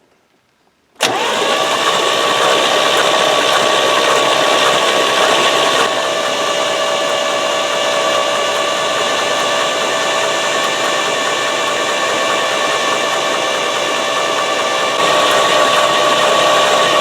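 A 1978 GMC Caballero engine cranks and catches abruptly after a second of quiet, then runs steadily and loudly up close with a constant droning hum and whine for the rest of the clip, no voices.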